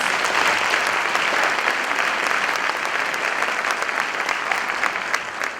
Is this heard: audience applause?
yes